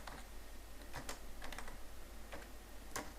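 Keystrokes on a computer keyboard while entering C program code, a few scattered clicks and short bursts of taps over a faint steady background hum, quiet and close.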